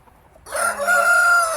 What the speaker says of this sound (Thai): ไก่อยู่ข้างหลังเนี่ยค่ะ ไก่น่ารักมากๆค่ะ